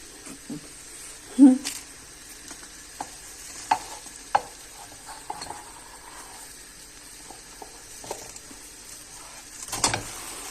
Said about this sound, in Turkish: Görüyorsunuz nar gibi kızarıyor